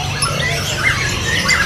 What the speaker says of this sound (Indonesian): ini ada anakan burung pendek